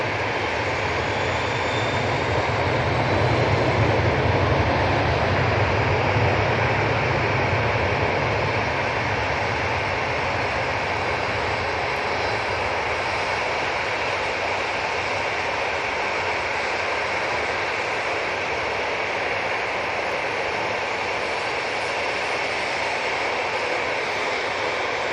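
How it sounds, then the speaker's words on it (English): A Cessna Citation business jet departs Manchester Airport, a steady, loud, broadband engine roar holding at an even level throughout with no talk. "There goes that Cessna Citation."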